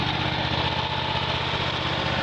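Engine of a Miller Legend 302 engine-driven welder running at a steady idle, a close, constant mechanical drone with a low rhythmic pulse and no talk.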